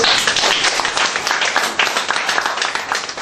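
A crowd applauds loudly and steadily at a fund donation ceremony for a senior citizens' band, dense clapping filling the whole moment without a break.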